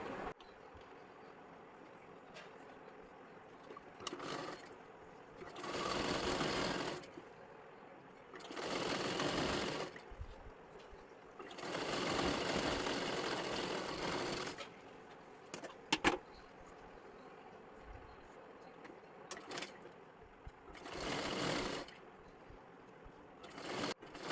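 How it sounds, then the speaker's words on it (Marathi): A sewing machine stitches both side seams of a blouse in repeated bursts of a few seconds each, separated by quiet pauses filled with faint handling and rustling of the fabric. "दोन्ही सुद्धा बाजूना शिलाई करून घ्यायची आहे"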